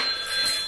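Electronic ringing of a toy telephone on a baby's activity table, a bright continuous trilling bell tone held for under a second, close and fairly loud with no talk over it.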